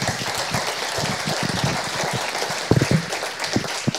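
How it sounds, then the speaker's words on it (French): A church congregation applauds the worship singers after praise, a steady crowd clapping with a few louder individual claps standing out near the end. "Vous pouvez les applaudir."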